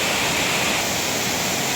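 Kaparkan Falls in Tineg, Abra, a broad waterfall, roars as a steady, dense wash of falling water, loud and continuous with no other sounds over it.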